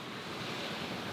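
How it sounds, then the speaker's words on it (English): Steady wash of sea waves and wind noise heard from a sailboat running downwind with both wind and waves coming from directly behind, a continuous broadband rush with no voices. "wind and the waves are both coming from directly behind us."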